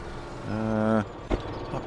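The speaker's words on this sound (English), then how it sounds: "I love the sound of that tractor." A tractor engine in Farming Simulator 17 drones briefly with a steady tonal hum that rises and cuts off, followed by a short mechanical thump, moderately quiet and without speech.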